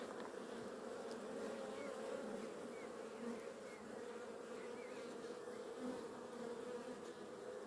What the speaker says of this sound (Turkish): Arılarımız inşallah sağlıklı vaziyette